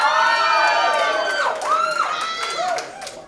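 An audience at a live comedy talent show cheering and whooping, a loud crowd roar with rising and falling shouted calls that fades slightly toward the end.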